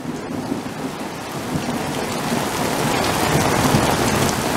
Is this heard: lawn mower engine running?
no